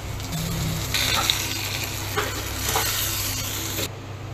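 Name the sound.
whole cumin seeds sizzling in hot oil for tempering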